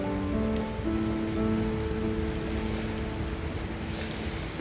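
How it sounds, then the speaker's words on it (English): Steady rain falling on a gloomy day at the beach, a dense, even hiss of drops with a low rumble beneath it. It runs close and constant, with no talking. "there's just something about the rain that is so nourishing. The sound of it"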